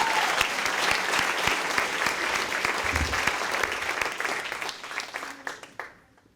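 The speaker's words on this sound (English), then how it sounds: "Let's applaud the poet, everyone." An audience at a high school poetry slam applauds a poet, thick sustained clapping filling the room for several seconds before thinning to scattered claps and fading out.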